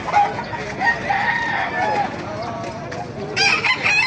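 A rooster crows and clucks a few times at moderate distance at a market in Baliuag, Philippines, over steady outdoor background noise with faint voices.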